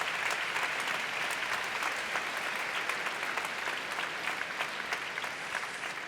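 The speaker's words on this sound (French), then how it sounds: "Alors je voudrais vraiment que vous applaudissiez Isabelle Ducom et Laetitia." Warm, dense applause from an opera audience honouring Isabelle Ducom and Laetitia of the opera's cultural mediation team, a continuous, even wash of many hands clapping at steady loudness with no speech over it.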